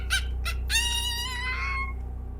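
A rooster crows once after a couple of short clucks, a bright drawn-out call heard faintly at a distance.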